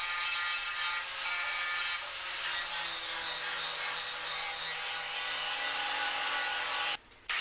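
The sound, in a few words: wire wheel cleaning paint off van panel metal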